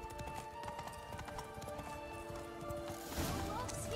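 Horse hooves clip-clop at a steady gallop in The Witcher 3, a rhythmic patter under game music and ambient noise, with a brief whinny-like burst and louder commotion near the end.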